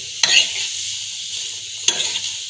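Carrots frying in a pan for carrot payasa, a steady close sizzle with two sharp stirring scrapes, one near the start and one near the end.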